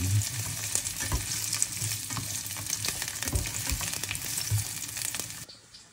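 Ginger and onion sautéing in a pan make a steady close sizzle with scraping stirs, which cuts off near the end.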